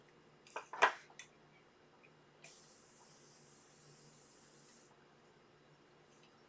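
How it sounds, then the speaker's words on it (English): A continuous hiss of Urban Decay All-Nighter setting spray held down for about two and a half seconds. It is soft and close, preceded by a few light clicks and handling noises, with no talking. "it is a continuous spray, so you can just hold it down and it sprays out"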